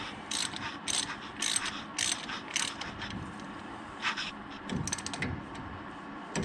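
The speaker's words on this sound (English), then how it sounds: "hold the glide pin in place so we could tighten the glide pin bolts" A wrench ratchets as it tightens the glide pin bolts on a Ram brake caliper, sending out several close, crisp bursts of rapid clicking between short pauses, with no voices.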